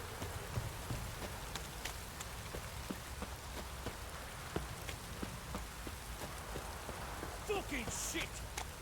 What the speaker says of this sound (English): If it don't stop raining, my arse will rot up.